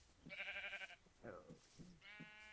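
Sheep in the video game Minecraft bleat in three quick separate calls, loud and close, with a short gap between each and no speech over them.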